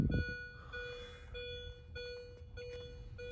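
Repeated electronic beeps at a steady pitch from a 2005 Mini Cooper R53 with its EWS immobilizer disconnected, sounding in short intermittent bursts against a low rumbling background.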